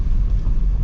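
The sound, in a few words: car rolling through a water-filled hole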